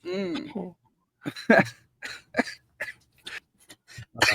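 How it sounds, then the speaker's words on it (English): A voice trails off, then a sick person gives a string of short, harsh coughs in quick irregular bursts, close to the microphone, with brief pauses between. "Makes me cough."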